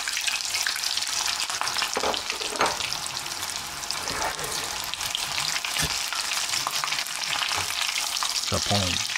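Breaded prawns sizzling steadily in a hot pan, a loud continuous crackle with occasional stirring scrapes and no voices.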